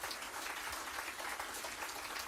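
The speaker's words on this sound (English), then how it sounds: "big round of applause for" Applause from a crowd at an election watch party for the Liberal Party, a steady, even wash of clapping held at a faint, distant level throughout.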